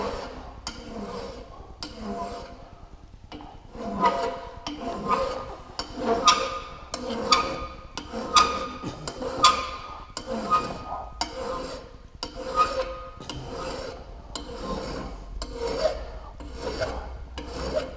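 A hand file rasps across a lawnmower blade clamped in a vise in steady back-and-forth strokes, about one per second. It is close and clear, with light background noise.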